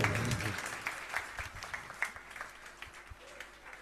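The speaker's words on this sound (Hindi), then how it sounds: "जय हो, ताली बजा दो।" Audience at a Shrimad Bhagwat Katha in Jagannath Puri breaks into loud, dense clapping that swells at first, then thins into uneven scattered claps as it fades.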